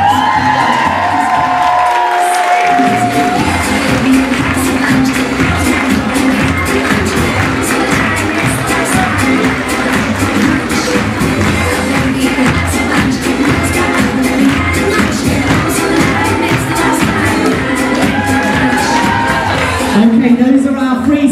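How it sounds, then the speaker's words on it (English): A crowd cheers, whoops and shouts continuously at an outdoor body painting parade on Brighton Pier, a loud sustained roar with children's shrieks and an amplified voice briefly at the start and end. "give them a cheer"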